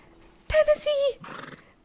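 A Tennessee Walker horse in Red Dead Redemption 2 gives one loud, close whinny with a wavering pitch, followed by a short snort and shuffling.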